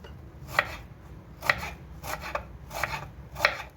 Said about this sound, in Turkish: Önce soğanımı ben bir doğrayayım.